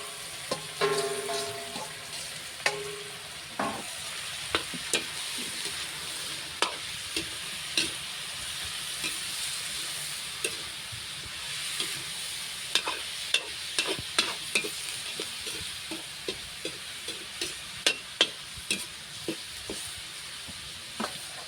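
Garlic and onion frying in a pan in a rural Philippine home kitchen, with a continuous low sizzle and frequent sharp clicks and scrapes of a utensil stirring against the pan.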